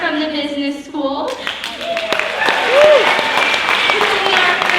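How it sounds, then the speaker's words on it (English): Audience applause at a University of Portland event, rising after a brief stretch of talk into loud, sustained clapping from a crowd, with some voices mixed in. "if you could give them a round of applause"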